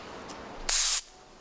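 Paint spray gun firing onto an apartment exterior wall high above the ground, a single short hissing burst of about a third of a second, close and sharp against quiet surroundings.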